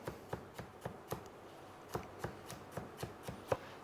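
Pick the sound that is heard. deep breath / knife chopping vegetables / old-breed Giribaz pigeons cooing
knife chopping vegetables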